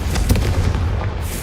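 A Confringo explosion spell goes off in Witch Simulator 2023, a loud booming blast with a rumbling, crackling tail that fills the short moment.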